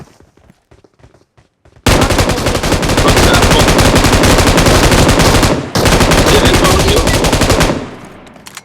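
Gunfire in the mobile battle royale game PUBG Mobile: loud sustained automatic bursts, rapid and dense, cutting off briefly before resuming, then fading at the end.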